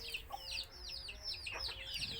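Free-range native Thai village chickens of mixed white and red colours cluck and chatter continuously at close range, with overlapping soft clucks and short calls and a low background rumble, with no talking.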